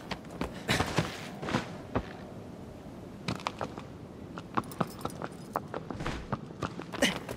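Horse hoofbeats in the video game Shadow of the Colossus, a quiet, uneven series of clip-clop thuds from a galloping horse, spaced irregularly across the moment with faint background ambience.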